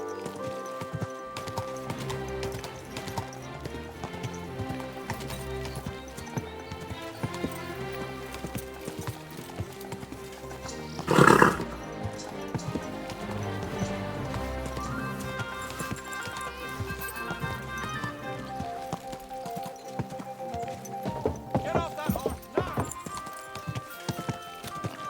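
Galloping horse hooves clatter in a fast rhythmic beat over a busy soundtrack in Kingdom Come: Deliverance II, with a brief horse whinny partway through.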